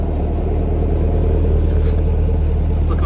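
A 2023 Chevy Camaro 1SS convertible with a V8 and a 10-speed transmission produces a loud, steady, deep engine rumble. It sounds close and constant, with no clear revving or shifts.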